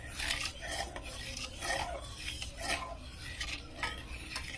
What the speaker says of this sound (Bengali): এবার এখানে আমি চালের গুঁড়োটা দিয়ে দেবো। স্বাদ মতন লবণ দেবো, এখানে পুরো স্বাদ মতন লবণ ব্যবহার করতে হবে। নেড়ে দেবো এইভাবে।